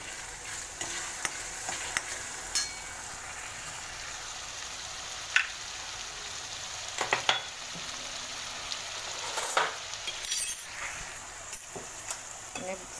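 Grated tomatoes sizzle in hot oil in a pan for tava chapdi, a quiet continuous frying hiss with scattered light clicks and scrapes of stirring.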